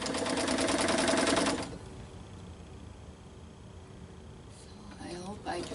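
A sewing machine stitches a stretchy fleece necklace in one loud, fast, rapid-fire whirring burst of about a second and a half, then stops as a person talks quietly.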